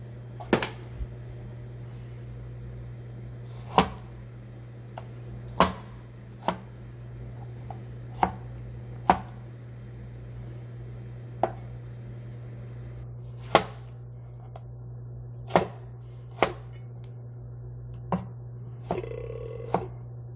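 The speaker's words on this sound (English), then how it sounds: "Now we're gonna just chop it up in a smaller piece." Sharp knife strikes on a cutting board as blanched, peeled tomatoes are chopped for beef chili, about a dozen single chops spaced unevenly, close and crisp over a steady low hum.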